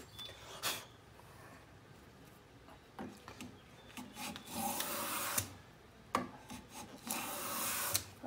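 Lie-Nielsen No. 62 low angle jack plane shaving wood, going against the grain, gives quiet rasping strokes, several separate swishes with pauses between them, close and soft.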